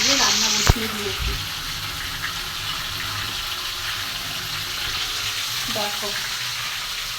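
Vegetarian yam curry cooking in a pan, a continuous sizzle and bubbling hiss that fills the whole stretch after a brief sharp clatter at the start, with someone speaking briefly.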